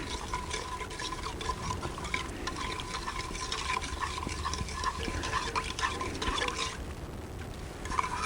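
A spoon stirring MRE fruit drink powder into water, a continuous watery swishing and clinking with a steady texture that eases off near the end.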